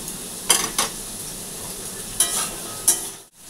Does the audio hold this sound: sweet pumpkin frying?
yes